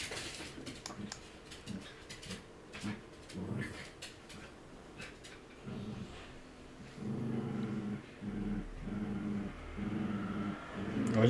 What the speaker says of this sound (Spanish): está aquí mi perro sin armando jaleo